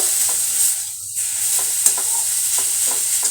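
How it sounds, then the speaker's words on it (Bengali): Grated carrot frying in a pan for carrot cake, with a steady sizzle broken by several scraping stirs of a spatula, close and fairly loud, no talking. "গাজরটা একটু নাড়াচাড়া করতে থাকবো"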